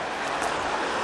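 Sea waves wash against the shore on a Spanish coastline in a brief, steady rush of surf with a faint wind hiss.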